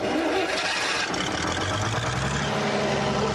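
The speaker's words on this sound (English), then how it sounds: "It's a Leyland engine, and it's a British generator unit as well." A heavy Leyland engine on a British generator unit starts, rumbling and churning loudly, running rough and continuous with a dense mechanical roar.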